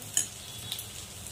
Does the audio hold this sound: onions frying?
yes